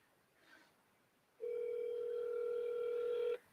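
A phone call placed on speakerphone, with a single long, steady electronic ring tone sounding clearly for about two seconds after a brief faint blip.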